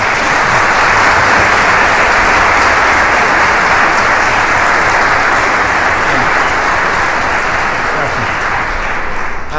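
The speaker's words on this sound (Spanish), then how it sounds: "un fuerte aplauso por favor." A concert audience at a philharmonic orchestra performance gives loud, sustained applause for Red Cross staff, a thick, even roar of many clapping hands that stays strong for the whole stretch without any speech.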